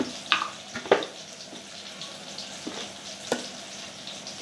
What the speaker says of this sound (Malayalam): ഒരു മീഡിയം ഫ്ലെയിമിൽ വെച്ചിട്ട് വറുത്തെടുക്കാം.